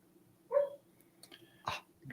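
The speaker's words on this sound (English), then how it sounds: "We got a doggy barking." A dog gives a few short, muffled barks and yelps at a distance, separated by quiet pauses.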